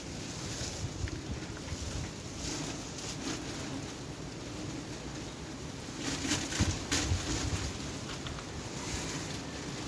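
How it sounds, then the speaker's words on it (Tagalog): Strong wind sweeps across a cemetery, a steady, rushing roar with low rumbling buffeting on the microphone, swelling into heavier gusts partway through, with no talk. "Lakas ng hangin."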